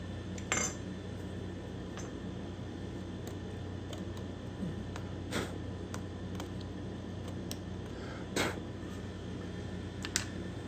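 A skinny chisel cleans out a binding channel at the heel of a guitar build, producing faint, sparse scraping clicks and small taps scattered irregularly over a quiet background hum.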